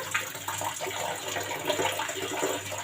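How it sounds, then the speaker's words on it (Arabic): Glasses are washed under running water in a kitchen sink, a steady close splashing flow with faint clinks throughout, with no talk. "انا هغسل كام كوبايه كده"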